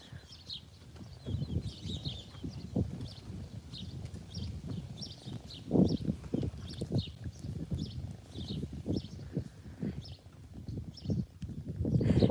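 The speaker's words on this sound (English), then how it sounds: "He's a good horse." An old retired horse's hooves clip-clop in a steady, uneven rhythm, moderately close, with faint bird chirps high above and no talking.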